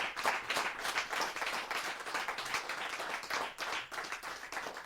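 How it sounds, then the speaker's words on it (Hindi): At a Hindi poetry gathering, an audience gives a guest a hearty welcome with sustained, lively clapping, many hands at a moderate distance and no talking over it. "जोरदार तालियों के साथ स्वागत करें।"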